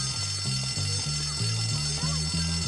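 A fire alarm rings in the video game Bully, pulsing in a steady repeating two-tone pattern with several evenly spaced beeps, moderately loud over a faint background hum.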